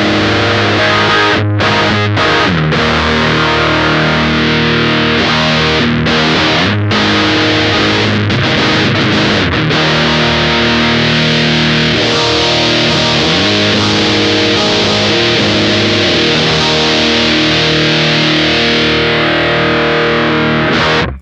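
Electric guitar through a Lichtlaerm Audio Altar pedal set to a brighter EQ, giving a loud, saturated distorted tone; sustained chords ring out after a few choppy stabs at the start.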